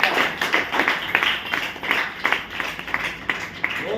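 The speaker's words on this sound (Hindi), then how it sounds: "जोरदार ताली इनके लिए" An audience claps for a newly successful trainer at a motivational talk, steady dense applause with lively rhythmic peaks throughout, fairly close and moderately loud, without speech over it.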